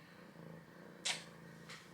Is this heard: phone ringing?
no